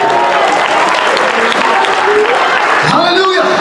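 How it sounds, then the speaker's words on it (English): A church congregation claps their hands during a revival sermon, loud dense clapping under voices and ringing tones, continuous through the short stretch. "Can somebody clap their hands for Jesus?"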